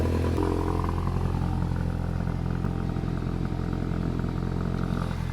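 Volkswagen GTI engine, burning oil, starting and settling into a steady idle, close by with a continuous low rumble and light mechanical clatter throughout.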